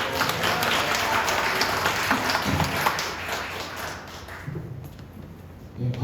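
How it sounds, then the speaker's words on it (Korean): A church congregation applauds to welcome a pastor at a year-end thanksgiving service, with steady broadband clapping that fills most of the clip and then thins out near the end. Some voices are mixed in underneath. "우리 이덕현 목사님 나오실 때 큰 박수로 환영해 주시기 바랍니다."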